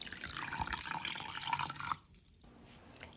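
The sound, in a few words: pouring water into chocolate cake batter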